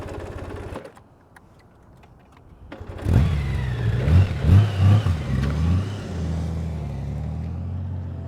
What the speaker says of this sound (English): Started throttle blipping.